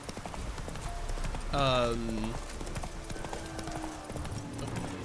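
Roach the horse's hooves clip-clop steadily in the video game The Witcher, moving in a regular rhythm throughout, with someone talking over the hoofbeats.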